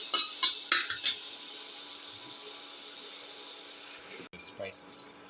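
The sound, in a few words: tomato being crushed and stirred in a sizzling pan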